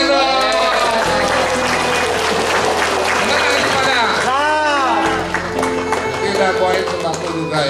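Applause from a gathered crowd at a regional deputy head's social visit and poverty coordination meeting, steady dense clapping filling the whole stretch with some speech and murmur mixed in.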